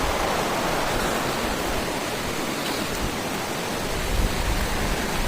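A forest stream in the Kolli Hills flows with a steady, loud rushing hiss that stays continuous and unbroken, with no voices.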